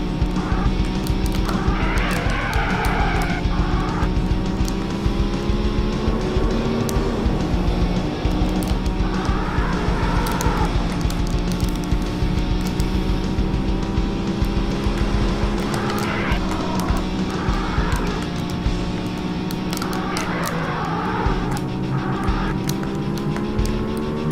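Car engine and tyres during a handbrake turn in The Need for Speed video game, a steady loud engine drone with rising and falling pitch and occasional skidding bursts, continuous and up close.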